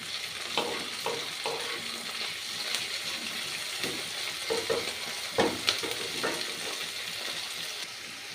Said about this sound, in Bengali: পেঁয়াজটা ভাজা হয়ে এসেছে, এরপরে উপরে টমেটোটা দিয়ে দেবো,